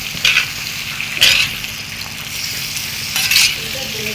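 Beef fry is stirred in a hot pan, a constant close sizzle with three louder scraping sweeps of the spoon against the pan spaced a second or two apart.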